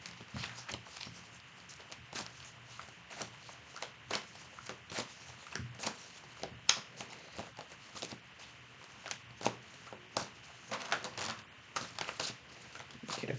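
Tarot cards slippery in the hands are shuffled in quick, soft riffles and slides, a faint papery rustle with irregular small taps, heard close and alone.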